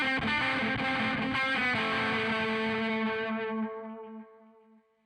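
Electric guitar played through an amp's overdriven drive channel with a delay pedal, a distorted chord phrase smeared by repeating echoes that pile up into a dense wash, then ring out and fade away.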